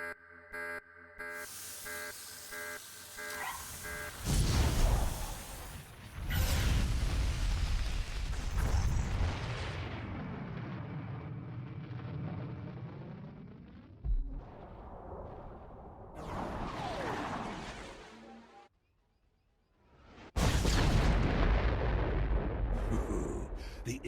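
Artillery strike explosions in Star Wars: The Old Republic video game roll out as heavy booming blasts and rumbling bursts, several loud waves separated by brief lulls and a near-silent gap before a final burst.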